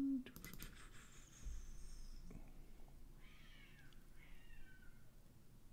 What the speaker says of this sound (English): I got a cat outside screaming